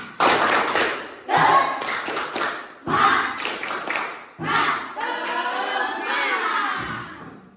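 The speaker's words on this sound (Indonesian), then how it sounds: "Tepuk semangat." A school class in Aceh does a spirit clap, tepuk semangat: bursts of patterned group clapping and chanting voices in several loud phrases with short pauses, ending in a longer sung or shouted stretch.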